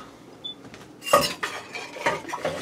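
Beaten eggs poured from a bowl into a pan for scrambled eggs in a Ninja Speedi: a quiet clink, then a cluster of close metallic scrapes and knocks of a bowl and utensil against the pan, brief and without talk.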